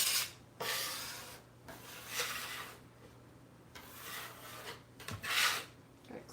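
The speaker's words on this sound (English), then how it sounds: "I know some people don't like a little scraper tool to get all these little bits." A small scraper tool scrapes little soap bits off a workspace, producing several separate soft rasping strokes, some longer and some short, close by with quiet gaps between them.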